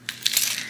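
A small bunch of keys jingles briefly, a few bright metallic clinks and rattles close to the microphone, with no talking.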